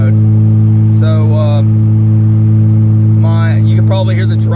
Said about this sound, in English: you can probably hear the drone of my Apexi race exhaust